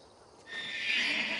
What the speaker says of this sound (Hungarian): A lovak jól laktak.